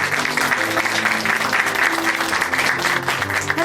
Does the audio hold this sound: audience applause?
yes